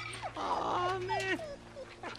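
A wounded dog in The Walking Dead Season 2 video game whimpers and whines in a string of short, wavering high cries, fairly quiet with a low hum beneath.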